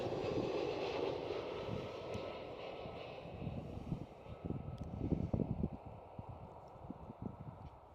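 An EasyJet UK airliner rumbles distantly at Schiphol airport in Amsterdam, a low continuous engine roar under wind, with a few brief clattering knocks in the middle.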